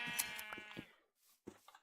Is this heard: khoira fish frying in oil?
no